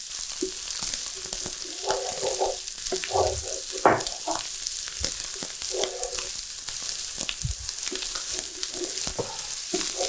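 Celery, onions, garlic and anchovies fry in a pan for fried rice, giving a steady close sizzle with scattered pops and crackles and occasional stirring scrapes, with no talk over it.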